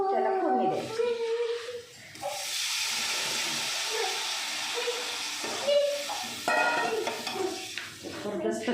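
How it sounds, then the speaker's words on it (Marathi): Tamarind water poured into a hot spiced tempering for a Marathi bhajji dish, crackling and hissing loudly at first, then settling into a steady sizzle with a few sputters and stirring scrapes near the pan. "हे चिंचचं पाणी जे करून ठेवलेलं आहे त्याला फोडणी द्यायची"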